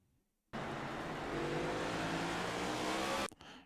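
A race car in iRacing at Martinsville loses traction under too much throttle, a loud sustained engine roar with tire scrub lasting about three seconds before cutting off abruptly.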